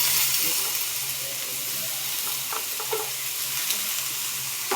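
Chopped ridge gourd pieces and tomatoes sauté in a hot pan, giving a steady, close sizzling hiss with a few soft stirring clicks and no speech.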